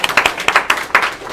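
Sparse applause from an audience at a talk on anti-Semitism and Zionism, heard as a handful of separate, fairly loud claps in an uneven rhythm rather than a full ovation.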